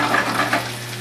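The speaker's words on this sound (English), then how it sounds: "we're not cooking this all the way through on the stove. We're just crisping both sides." Coffee-rubbed steak sears in a hot pan on the stove, a steady bright sizzle with a few louder crackling pops near the start, close and loud with no talking.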